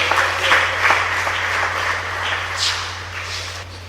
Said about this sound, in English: please join me with a round of applause as we welcome the chairman of Enugu Sports Club, Ben Etiaba